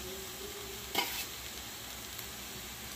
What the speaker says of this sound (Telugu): మగ్గిన తర్వాత కొంచెం క్యారెట్ వేసుకొని వేయించుకోవాలి.